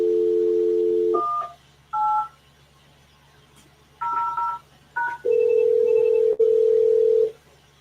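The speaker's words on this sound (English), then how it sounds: "SCCP phone is also ringing" An SCCP IP desk phone beeps through a series of dialing tones, short paired beeps with pauses, followed by a longer electronic ring repeated twice, loud and close.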